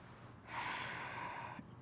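One long, audible breath drawn in through the nose while holding a yoga bridge pose, rising sharply and fading after about a second in an otherwise quiet room.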